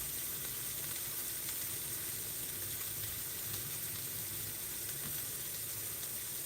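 Meat browns in a pan for an eggroll-in-a-bowl stir-fry, giving a steady, close sizzle and hiss that runs unbroken throughout with no talking.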